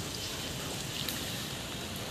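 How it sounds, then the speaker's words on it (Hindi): Steady rain falling outdoors, a constant even hiss of drops on surfaces close by, with no voices over it. "आज बारिश हो रही है"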